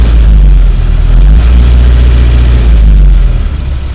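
T-40AM tractor engine revving loudly up close, a deep, steady low-frequency roar that rises slightly in pitch and holds, easing off near the end.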